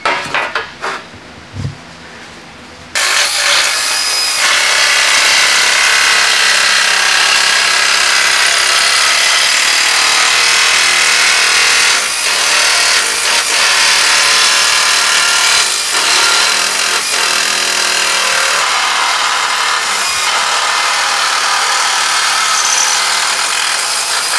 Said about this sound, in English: just cut it right here with some nibblers